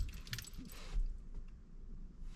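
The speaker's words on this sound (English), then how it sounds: "I'm going to turn the ignition on with the original key" An original key turns in the ignition of a 2009 Suzuki Splash, giving a brief close metallic jingle and scrape of the key and fob against a low interior hum.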